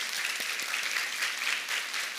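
A church congregation applauds steadily to welcome a guest professor and his two sons, a continuous wash of clapping from a seated crowd, moderately loud.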